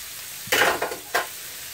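Garlic and shallot fry in a pan, the quiet sizzle rising into two or three short bursts of crackling as the pieces are stirred, close and fairly soft with no talk.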